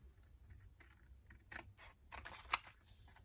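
Scissors snip a triangle out of paper for a bee-and-daisy mini prayer journal, giving a handful of quiet, close, irregular cuts and crisp paper rustles, with one sharper snip near the end.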